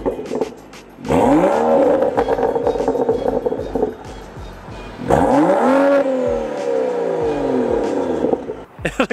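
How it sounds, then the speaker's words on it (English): Turbocharged, methanol-injected BMW F30 335i engine revving hard twice, each long high-pitched pull rising and holding with a whooshing, jet-like turbo whine before dropping off, close and loud, no talk. "It sounds like a jet engine."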